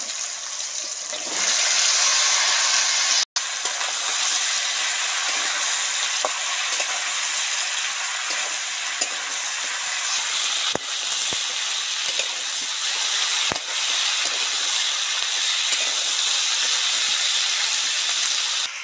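Chopped snake gourd and potatoes fry in a pan of hot oil, giving a loud, steady sizzle with a brief break early on and a few soft clicks of pan contact, with no talking.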